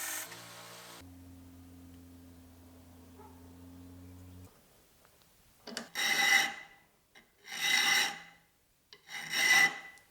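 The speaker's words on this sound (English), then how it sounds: "I ground a clip into the spine of the blade." A clip is ground into the spine of a knife blade made from rusty springs. After a quiet hum, three separate harsh rasping passes follow with short pauses between them.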